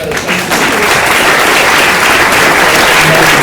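A creative forum audience gives a loud round of applause, many hands clapping in a thick continuous roar that stays full and close throughout, with no talk over it.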